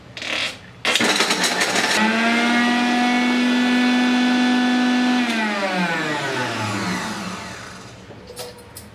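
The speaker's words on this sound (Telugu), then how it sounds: "ముందుగా మిక్సీ జార్ తీసుకొని అందులో ఈ ఖర్జూరంను వేసి కచ్చాపచ్చగా మిక్సీ పట్టుకోవాలి" After a short burst, a mixer grinder coarsely grinding dates whirs loudly with a high, steady whine for several seconds, then slows and winds down to a stop.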